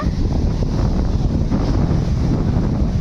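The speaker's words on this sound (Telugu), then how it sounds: "ఇక్కడ చాలా విండ్ వస్తుంది గైస్" Strong wind at Rock Beach in Pondicherry buffets the microphone in a steady, loud, unbroken roar, with no voices.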